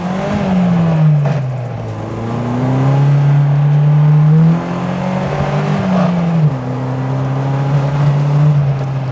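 An Opel Manta's engine revs in short bursts, its pitch rising and falling through several throttle blips over a steady idle, loud and close with no talking.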